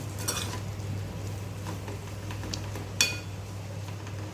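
Potatoes for a spiced potato stir-fry roast in a pan with salt and chili powder, a faint steady sizzle over a low hum, broken by a couple of sharp utensil clinks against the pan.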